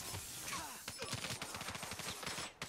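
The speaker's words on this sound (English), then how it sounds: "I'm literally just shooting you" Rapid bursts of automatic gunfire in a 3v3 shooter video game, a dense fusillade of overlapping shots that continues for a few seconds at steady loudness.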